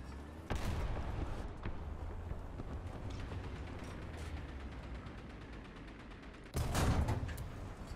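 Heavy cannon shots from a T-26E5 heavy tank in a video game: two loud booming blasts, one at the start and one near the end, over a steady low engine rumble.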